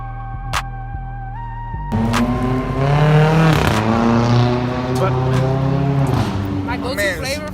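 A loud Fiat car roars past on a city street outside a pizzeria, its engine rising and sustained with rough revving tones, while people talk close by throughout.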